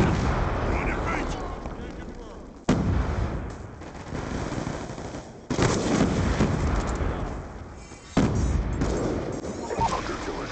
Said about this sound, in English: Throwing frag! Grenade, move!